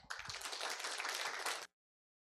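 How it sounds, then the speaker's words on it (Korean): A dense burst of audience applause welcomes a university professor onto the stage at a philosophy forum's anniversary symposium. The clapping stays steady and full for about a second and a half, then stops abruptly into silence. "큰 환영의 박수 부탁드립니다"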